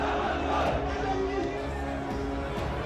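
A large crowd of demonstrators at a protest in Bannu, gathered at Maulana Abdul Sattar Shah Chowk, makes a steady, dense roar of many voices, with chatter and shouts blending into continuous close-up noise.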